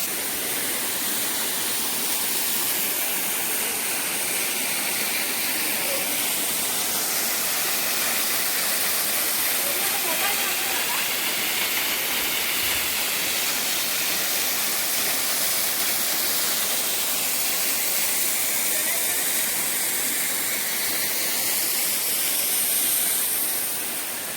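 A waterfall at a hidden spot in Kudal taluka roars as a loud, steady wash of falling water that runs unbroken throughout, with no voices heard.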